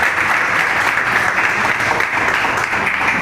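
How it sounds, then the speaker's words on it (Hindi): Steady, dense audience applause at a poetry recital, loud and continuous throughout with no talk over it. "लिए एक जोरदार तालियां बजाइए।"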